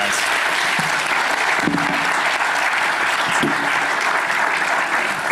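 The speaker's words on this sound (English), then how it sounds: "Big round of applause for Mace and Rich" An audience claps for panelists at a community week event, with loud, sustained applause and a few low voices and murmurs mixed in.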